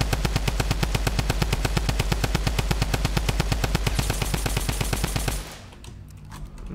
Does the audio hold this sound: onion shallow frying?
no